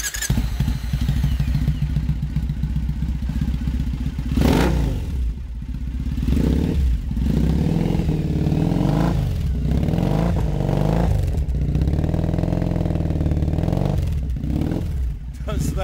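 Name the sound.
Triumph Bonneville bobber drag bike engine started and running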